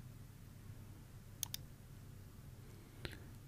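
A few faint, crisp computer mouse clicks while navigating Windows 11 settings: a quick pair, then a single click after a pause, quiet and close over a low background hum.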